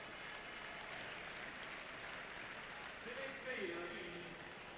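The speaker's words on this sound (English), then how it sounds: "So they all get a great and generous round of applause here." Crowd applause at the 1998 All Ireland Gaelic football final, a faint, steady wash of clapping from a large stadium crowd, under a voice talking.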